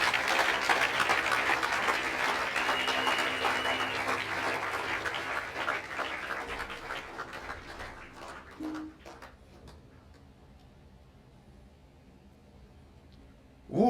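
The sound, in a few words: congregation applauding the Lord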